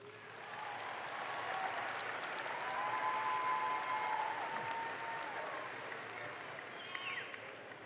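A university commencement audience gives a sustained round of applause that swells and holds, heard from a distance at low volume, with faint crowd murmur and a few whistles in the room.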